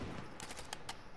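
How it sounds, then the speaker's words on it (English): Rapid bursts of gunfire from a battle royale video game crackle in quick succession, a few sharp clustered shots standing out against a quiet background with no talk. "One more shooting behind me."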